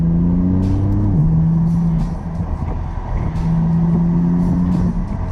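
A BMW M4 CS engine idles loudly up close with a deep exhaust burble through a modified mid pipe on a cold day, one quick rev and drop, then settles back to a steady rumble.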